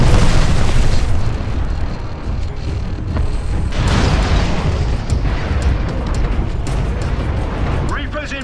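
Mortar titans fire rockets from afar in a Frontier Defense match, heavy booming launches and explosions rolling one into another, loud and sustained, with voices talking over the din.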